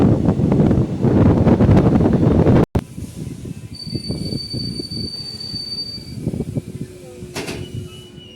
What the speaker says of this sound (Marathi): Ahmedabad Mumbai central Tejas express. Cross Kelwe road.